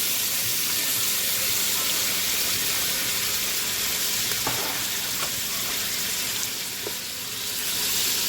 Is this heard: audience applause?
no